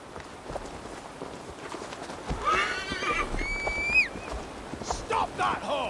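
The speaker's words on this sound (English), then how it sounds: "Stop that horse!" A horse in Assassin's Creed Valhalla lets out a loud, close whinny with a falling, wavering pitch amid game ambience and hoof clatter, with voices shouting in the scene.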